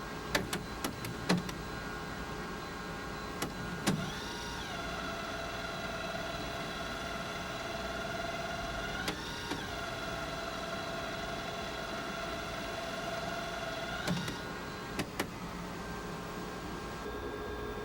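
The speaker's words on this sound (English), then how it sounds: "The printer takes about 3 minutes to warm up." An Apple Color LaserWriter 12/600 PS laser printer warming up gives off a steady mechanical hum with whining motor tones that rise and fall in repeating cycles, broken by sharp clicks and clunks, quiet and close.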